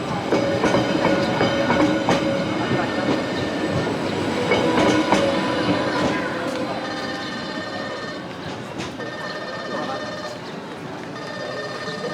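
Sightseeing tram cars on a mountain trail rattle and clatter along the rails with a continuous rolling rumble and faint wheel squeal, while people talk nearby.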